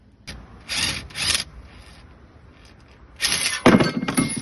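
Tight caliper retaining bolts are worked loose on an Audi A3 during a wheel bearing job, with two short bursts of metallic ratcheting and clanking, a quiet gap, then a longer, louder run of clinks and thunks.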